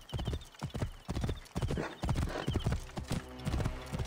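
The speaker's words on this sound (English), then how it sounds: "Pegasus, huh? I like it. It suits a horse." Horse hooves clip-clop in a steady rhythm in Assassin's Creed Origins, with a brief whinny, the galloping loud and close throughout.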